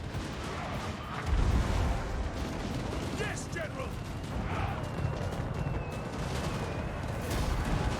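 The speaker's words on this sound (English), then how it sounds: "Hell cannons should be done firing shortly, though they are going to get a few shots in and get some kills." Hellcannon artillery fire in a Total War: Warhammer 2 battle, heavy booms and rumbling blasts rolling under continuous battlefield din while a voice briefly speaks.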